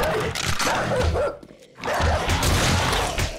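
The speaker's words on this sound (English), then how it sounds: "Why is there so many dogs and stuff down there?" Several dogs bark in 7 Days To Die, a dense run of loud overlapping barks and yips that breaks off briefly in the middle before resuming, with no talk.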